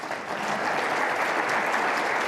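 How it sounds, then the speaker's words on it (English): A conference audience applauds panel finalists at an industry panel discussion, dense steady clapping throughout, loud and close, with no speech over it. "Please give them a round of applause."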